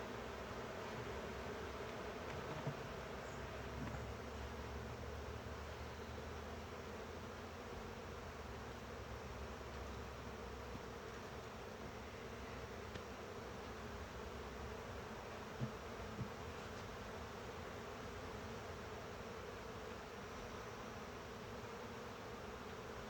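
Honey bees buzz steadily around an open beehive during an inspection, a continuous soft drone from many insects with a few faint clicks and no voices.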